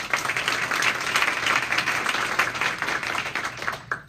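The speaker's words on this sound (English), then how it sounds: "So please give her a round of applause." Audience applause at a networking talk, a steady dense wash of many hands clapping throughout at moderate loudness, thinning out abruptly at the very end.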